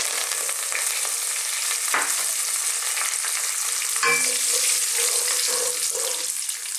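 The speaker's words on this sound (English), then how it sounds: "Now, when I drop these in, they're going to make quite a noise," Fresh curry leaves dropped into hot oil for an Indian vegetable curry, crackling and sizzling continuously in a close, bright hiss, with a sharper burst of spitting midway as the leaves hit and stir in the pan.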